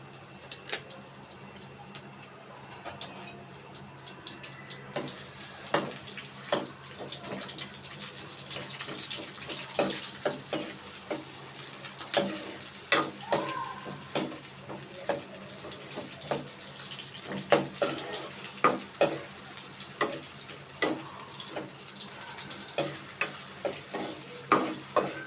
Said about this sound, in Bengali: আমার তেল গরম হয়ে গেছে। আমি কেটে রাখা পেঁয়াজ কুচিগুলা দিয়ে দিলাম।